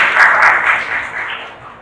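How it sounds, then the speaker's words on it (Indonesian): Loud audience applause at a book discussion event in a library in Malang, a dense burst of clapping that peaks early and gradually thins out over about two seconds. "Tepuk tangan buat beliau."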